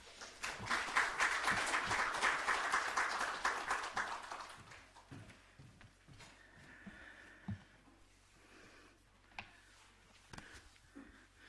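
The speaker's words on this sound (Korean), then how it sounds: "우리 목사님 나오실 때 박수로 환영하겠습니다." Congregation clapping to welcome a pastor to the stage at a staff worship service: a few seconds of lively applause that fades out, followed by scattered footsteps and small knocks in a quiet room.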